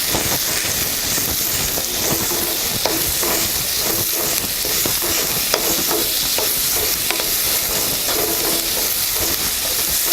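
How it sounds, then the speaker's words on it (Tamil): Beetroot stir-frying in a pan for beetroot biryani, a loud, steady sizzle and hiss with the scrape of a spoon stirring at intervals throughout. "பீட்ரூட் 1 அறுத்து வச்சுருக்கேன், அதை போட்டு நல்லா வதக்கலாம்."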